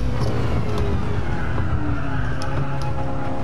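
A Ford Focus RS out on a lap, its engine droning steadily with rising and falling pitch as it accelerates and shifts, loud and continuous throughout.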